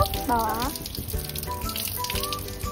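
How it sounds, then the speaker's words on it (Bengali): Ingredients for phuchka water are rinsed under a rooftop water tap, with running water splashing steadily beneath overlapping voices talking nearby. "এবার আমরা এটাকে ছাদের কল থেকে ধুয়ে নেব"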